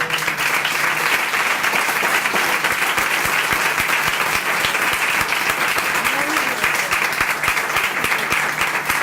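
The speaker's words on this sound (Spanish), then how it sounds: "Yo verdaderamente quería pedir un nuevo aplauso a Cristina, que nos maravilló con su..." Continuous applause from a seated audience at a Spanish-language science talk, many hands clapping in a thick, even patter that stays loud throughout.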